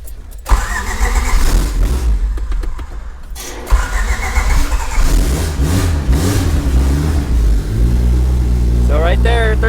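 Engine of a 300 hp Honda Civic wagon cranking and catching, then settling into a loud, rough idle with revs rising and falling close by, with voices talking over it.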